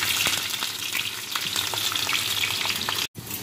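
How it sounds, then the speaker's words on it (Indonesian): Spice ingredients for Indonesian chicken soto fry in hot oil, giving a loud, steady sizzle and crackle with occasional stirring, broken by a brief silent gap near the end. "Kita goreng dulu ya."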